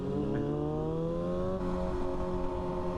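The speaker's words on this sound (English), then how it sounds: "Second gear, crank on the throttle." A 2017 Suzuki RMZ250 supermoto motorcycle pulls hard in second gear, its engine note climbing steadily in pitch, loud and close throughout with no talking.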